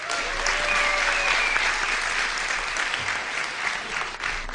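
An audience at a Polish stand-up comedy show claps loudly and steadily for several seconds, a dense wash of applause that eases slightly toward the end, with faint voices mixed in.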